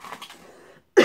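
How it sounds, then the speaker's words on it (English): A single sharp cough bursts out at the end, following a soft breathy exhale, close and fairly loud. "I've had like a coughing spell."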